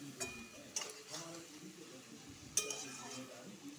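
Sour yogurt is stirred in a pot with mixed vegetables during home cooking: a few quiet scraping and clinking strokes of a spoon against the pot, spaced apart, with soft background noise between them.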